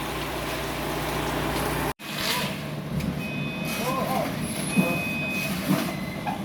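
A concrete mixer truck reverses at a house construction site while delivering concrete, its engine rumbling steadily with a few high, evenly spaced reversing beeps over the din.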